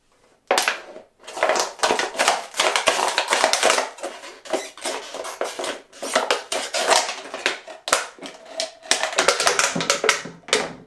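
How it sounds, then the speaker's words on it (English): Rapid, crackling snips and crunches of scissors cutting a plastic bottle, close and uneven, continuing in busy bursts throughout. "you get your scissors and you cut"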